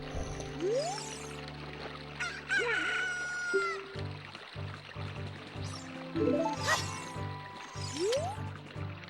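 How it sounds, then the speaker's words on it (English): Chickens cluck and a rooster crows in The Legend of Zelda: Ocarina of Time, over a repeating electronic melody, with bright chiming game tones and a steady background loop. "A chicken hatched. They're called cuckoos."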